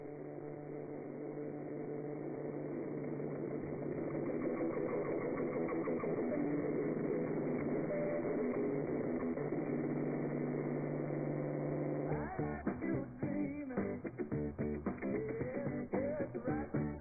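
Helicopter on a tour over Hawaii lifting straight off the ground, a steady, loud rotor and engine drone for most of the clip, turning choppier and pulsing toward the end.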